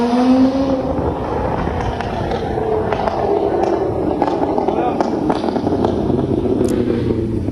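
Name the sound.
two luxury cars speeding on a road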